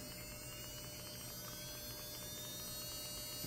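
Cordless nail drill, model P-C108F, running at its lowest speed setting 1, giving a steady, continuous motor hum with a faint high whine, even and unbroken throughout.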